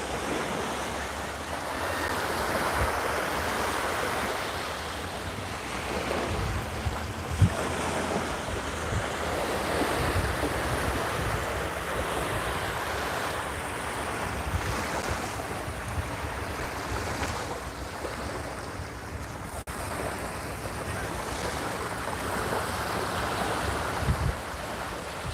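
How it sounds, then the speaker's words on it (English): Surf and wind roar steadily at a Cape May beach while a low engine rumble from boats out on the water runs underneath, with wind buffeting the microphone throughout. "I hear some very loud boats"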